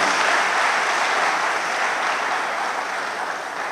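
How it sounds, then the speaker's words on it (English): Sustained applause from an audience at a book launch event, dense and steady clapping that fills the room and tapers slightly toward the end. "I think that it deserves some bigger applause."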